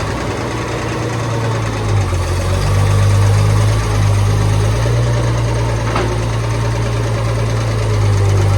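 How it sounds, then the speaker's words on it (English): A heavy tractor engine idles steadily throughout, a low rumbling drone with a faint mechanical knock and no voices. "I gotta move the tractor and ditcher over."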